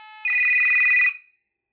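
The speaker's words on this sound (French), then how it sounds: "Le poste sonne, il décroche automatiquement au bout de 3 sonneries." A Universal LELAS intercom station rings with a bright electronic multi-tone chime, one short burst of ringing over a faint tone that then stops abruptly into silence.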